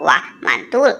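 A toy duck gives three loud, close quacks in quick succession while a person reacts with a short exclamation.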